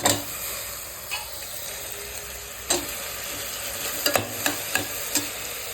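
Steady frying sizzle of potatoes in a pan with a few sharp clinks and scrapes of stirring scattered across it; no voices.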